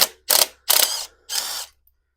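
A ratchet wrench loosening bolts on an IH TD340 dozer during steering repair, three distinct rasping clicking bursts, each about half a second long, close and clear, followed by quiet.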